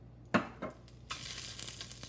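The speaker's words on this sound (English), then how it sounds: "So what you want to hear is that sizzling," Meat browning in a couple tablespoons of olive oil in a pot on high heat for a Sunday meat sauce: a few clatters, then a steady, close, crackling sizzle that holds to the end.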